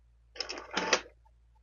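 An industrial sewing machine stitches a backpack panel in one short, quiet run of rapid mechanical clatter lasting under a second, with no voices.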